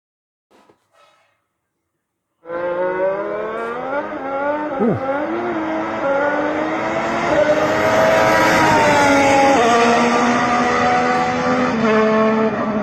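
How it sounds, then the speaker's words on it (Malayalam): A 2026 Red Bull RB22 Formula 1 car engine bursts in after a brief silence and holds a loud, deep, sustained roar that climbs and swells steadily. A voice gives a short exclamation just before it starts. "RB22-ൻ്റെ എൻജിൻ നോയ്സ് ഒന്ന് കേൾക്കാൻ പോവാണ്."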